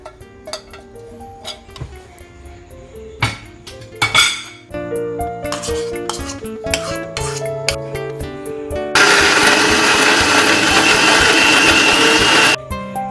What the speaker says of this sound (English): We will turn in all the ingredients into the blender jar.